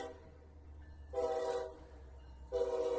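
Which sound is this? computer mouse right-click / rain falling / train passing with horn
train passing with horn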